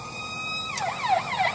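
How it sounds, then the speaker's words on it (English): An ambulance siren sounds nearby, first a steady tone, then switching to a rapid wailing sweep as it passes, loud and clear with no talk over it. "There's an ambulance."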